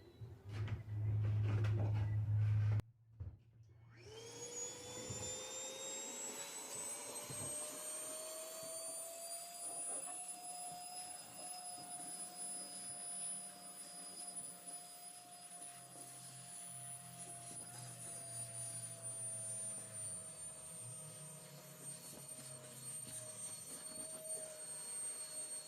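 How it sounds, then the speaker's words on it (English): A Milwaukee vacuum cleans a floor before vinyl plank flooring goes down: a brief loud thump, then the motor spins up into a steady, close, high whining drone that runs on without talk. "we'll go ahead and give it one more vacuum and get started right here."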